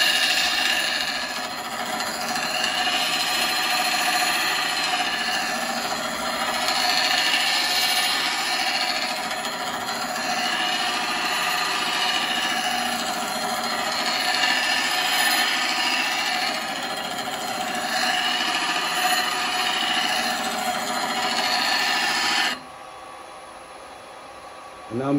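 A woodturning tool is ground on a sharpening grinder to put a relief bevel on it, giving a steady, loud, continuous abrasive whine that holds for over twenty seconds before dropping away near the end.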